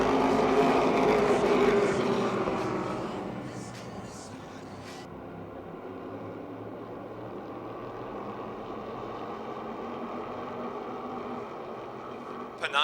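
Wyotech Modified race cars at Motordrome Speedway run wheel-to-wheel in a Crown Jewel event, with engine roar loud in the first three seconds as the pack passes close, then fading to a steadier, more distant drone.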